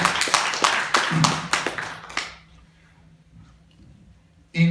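Rhythmic congregational hand clapping in a church service, a quick run of loud, sharp claps for about two seconds that then fades into quiet room tone, with a brief burst of noise at the very end.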